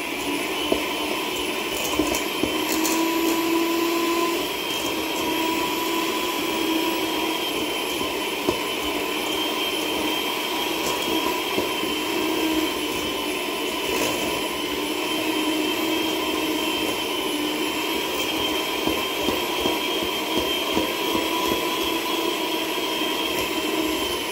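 A mixer runs steadily through chocolate chip cookie dough for soft cookies, a continuous motor whine and whir that stays loud and even throughout with no talking.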